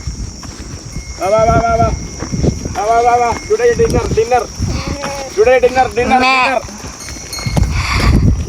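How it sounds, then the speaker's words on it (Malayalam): Lambs bleat repeatedly at close range in hot open country on a Namibia to Zimbabwe journey, a run of loud wavering cries in bursts, with rustling movement and hoof noise beneath and a faint voice at times. "കുറെ ആട്ടിൻകുട്ടി പോകുന്നുണ്ട്"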